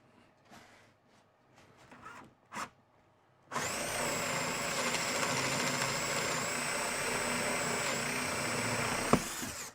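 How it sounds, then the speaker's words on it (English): A drill bores a pocket hole through a Kreg K5 pocket hole jig mounted with a PARF Guide Mk2. After a few clicks and knocks, a loud, steady motor whine runs for about six seconds. "and we drill"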